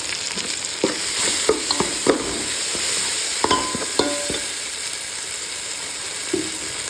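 Onions and corn sautéing in a pan for a homestyle dal fry, with a steady sizzle broken by repeated scraping and clacking strokes of a spatula, close and moderately loud, no talking.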